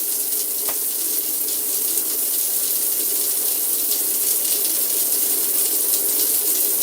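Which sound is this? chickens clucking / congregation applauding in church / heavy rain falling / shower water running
shower water running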